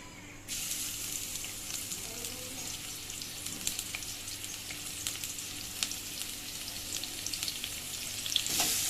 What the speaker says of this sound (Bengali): এ পর্যায়ে আমি পেঁয়াজটা দিয়ে দিব